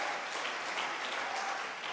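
A church congregation applauding during a worship service: steady, dense clapping from many hands filling the room throughout, moderately distant and even in level, with no talk over it.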